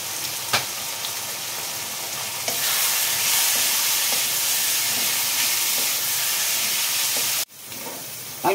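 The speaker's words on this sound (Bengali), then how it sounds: "আলুর সঙ্গে মশলাগুলো পুরো কষানো হয়ে গেছে, তেল ছেড়ে দিয়েছে" Spices and potatoes sizzle and fry steadily in hot oil while being stirred in a pan, a loud continuous hiss with occasional scraping, cooking down for a Bengali-style egg and cabbage curry.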